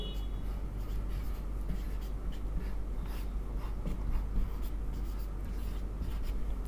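Chalk or marker scratching steadily across a classroom board as a chemistry equation is written, continuous close strokes over a low background hum.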